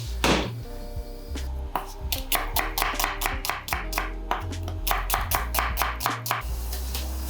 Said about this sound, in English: we're just going to peel and chop our onions